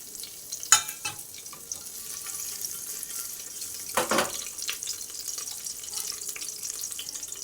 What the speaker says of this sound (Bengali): তেলটা গরম হওয়ার পর এর মধ্যে দিয়ে দেবো তেজপাতা গোটা গরম মশলা